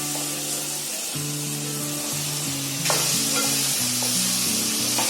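Paneer and vegetables fry in a pan with a loud, steady sizzle that swells partway through as stirring stirs it up, while background music plays along throughout; no voices.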